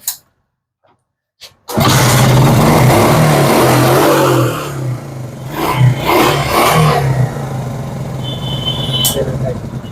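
A used motorcycle engine kicks into life after a short silence and then idles loudly and steadily up close, with people talking over the running engine.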